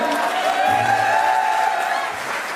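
An audience at a public rally claps together, a dense burst of applause with some crowd noise that lasts a couple of seconds and then eases off slightly.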